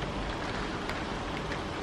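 Steady rain falls throughout, a dense, even hiss of drops on a surface with no pauses, fairly quiet and unbroken, with no one talking.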